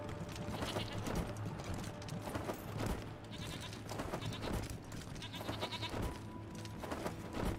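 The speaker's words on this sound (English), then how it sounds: "And then there are a couple of goats here." Goats in the Wasteland 3 video game, repeated bleats over a busy game soundscape with clip-clopping hooves and a steady low hum, the calls coming in irregular bursts at moderate loudness with no talk.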